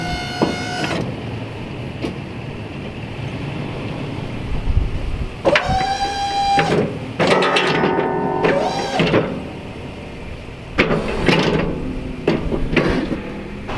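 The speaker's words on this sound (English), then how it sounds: "make sure that you bring the plow up, do your left, right, and make sure that everything is working accordingly" A BOSS DXT snow plow's hydraulics whine in several separate bursts as the blade is raised and angled left and right, with steady background noise between bursts.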